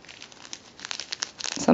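A plastic bag holding catnip-scented cat toys crinkles in quick, close bursts that grow busier toward the end, with a louder rustle at the very finish.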